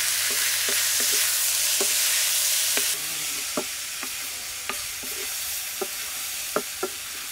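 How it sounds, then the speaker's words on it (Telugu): Cluster beans being stirred in a pan with turmeric, salt and chili powder, a loud steady sizzle punctuated by regular spatula scrapes and taps, close and without talk. "పావు చెంచా పసుపు, రుచికి సరిపడా ఉప్పు, ఒక 1/2 చెంచా కారం ఇవన్నీ బాగా ముక్కలకు పట్టుకునే వరకు కలుపుకోవాలండి"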